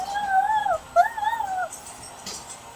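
Lizzie, a very high-pitched puppy, gives two long wavering whimpering howls, close and clear, followed by a faint quiet pause.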